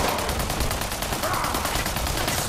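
Rapid, continuous gunfire in Fallout 76, with a fast, dense rattle of shots throughout.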